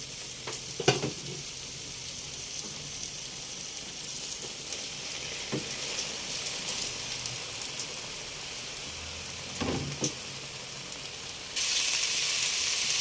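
Basmati rice for chicken biryani stir-fried in a pan: a soft, steady sizzle with a few sharp scrapes of a utensil, louder hissing toward the end, no voices.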